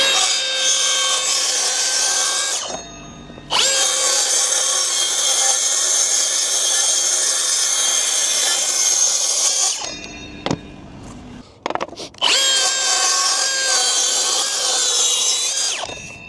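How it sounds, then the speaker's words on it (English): A track saw cuts plywood in long, loud, whining passes, broken by two short stops and a few clunks before the cutting resumes. "a track saw because it's a lot quicker and a lot faster"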